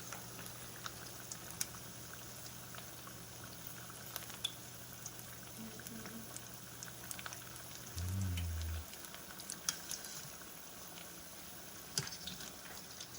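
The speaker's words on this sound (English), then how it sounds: "I'm just going to keep frying the chicken until it is all done" Steady, quiet bubbling crackle of battered chicken deep frying in hot oil, continuous and even throughout, with a brief low thump partway through.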